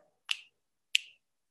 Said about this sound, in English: Santa says, snap your fingers.